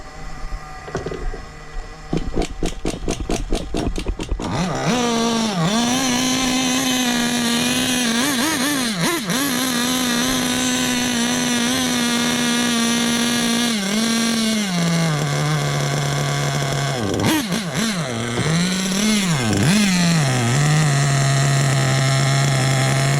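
New Hobao Hyper VS2 nitro RC car engine running during break-in: a few sputtering pulls at the start catch into a loud, sustained buzzing whine that rises and dips with the throttle, close up with no talking.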